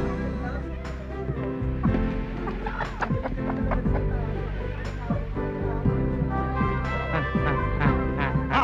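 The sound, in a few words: live chicken clucking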